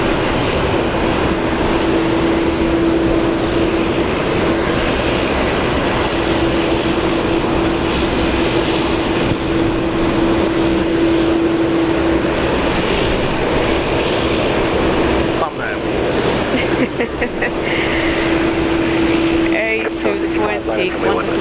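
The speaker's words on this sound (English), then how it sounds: "A220 Qantas link" A QantasLink Airbus A220 airliner at Brisbane Airport, a loud sustained engine roar with a steady hum running through it, while people talk in the background and brief handling noises break in near the end.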